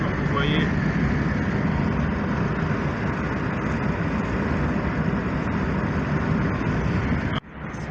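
A Peugeot car cruising in fifth gear, with a steady engine and road rumble heard from inside the cabin, loud and unbroken until a sudden drop near the end.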